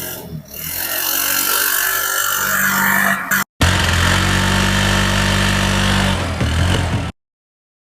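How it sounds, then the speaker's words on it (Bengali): A second-hand CNG auto-rickshaw engine idles loudly with a steady, rattling low drone, breaks off briefly, resumes, and then stops suddenly. "ভিউয়ার্স আমরা এখন এই গাড়িটির ইঞ্জিন সাউন্ড শুনবো দেখেন"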